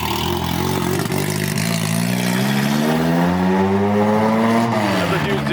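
A K24-swapped Honda Civic EK hatchback revs hard while driving, the engine note climbing steadily in pitch then dropping off, loud and close inside the car, with people talking over it.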